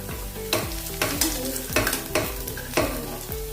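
Potato patties shallow frying in oil give a steady sizzle, broken by regular scraping knocks of a utensil against the pan, close up.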